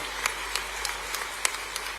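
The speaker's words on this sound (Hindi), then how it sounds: "तालियां बजे तो जोर से बजे" Audience at a sports awards ceremony in Bhopal keeps up even applause, a few louder individual claps popping out now and then over the steady patter.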